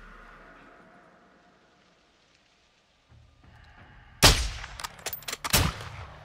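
A sniper rifle in Call of Duty: Modern Warfare II cracks loudly after a quiet stretch, its sharp report trailing into a burst of rattling echoes and clattering noise.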